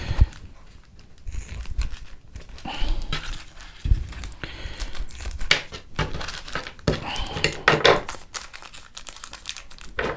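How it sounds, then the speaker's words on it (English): Scissors snip open the plastic packaging around a charging cable and accessories for a DJI Osmo Pocket 2, giving close, irregular crinkles and sharp cutting clicks with rustling between the cuts. "I'm just going to use the scissors to snip these open."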